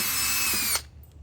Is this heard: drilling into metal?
yes